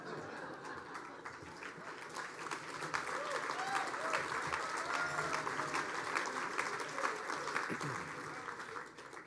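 An audience at an awards gala applauds a guest honoree, the clapping swelling midway and holding steady, with scattered chuckles and a faint voice carrying through the crowd noise.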